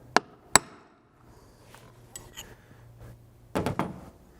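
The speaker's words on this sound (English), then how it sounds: "We're gonna go ahead and center punch them so that our drill doesn't wander." A center punch is struck to mark drill holes on a Toyota Tundra roof, giving two sharp metallic taps followed by quieter scrapes and a final cluster of quick knocks.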